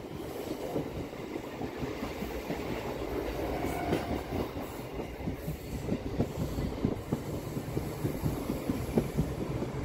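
A local passenger train runs on rails between Tarakeswar and Goghat, heard from on board as a steady rumble with rhythmic clickety-clack wheel beats throughout.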